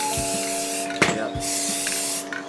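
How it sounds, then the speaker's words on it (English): Spray paint hissing steadily onto a Chevy Silverado part during a second coat, a continuous broadband spray with one brief sharper burst midway and a short pause near the end, close to the microphone. "If I can get a good second spray, we are good to go"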